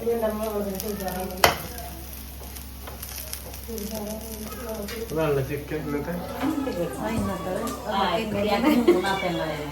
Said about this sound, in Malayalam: നമ്മള് ബ്രെഡ് പൊരിക്കാണ്